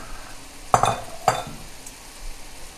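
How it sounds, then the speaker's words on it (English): Kale and zucchini are stirred in a cooking pot of minestrone, with two distinct spoon scrapes and clinks against the pot over a soft, low sizzle, then quiet simmering. "Give that a stir."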